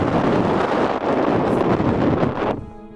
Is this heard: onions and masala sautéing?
no